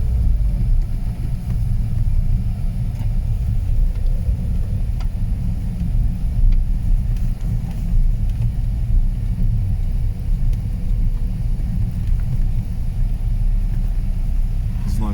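A car on a road drives steadily with a low, continuous engine rumble close by as the driver shifts into second gear, with no clear rev spike and faint background noise throughout.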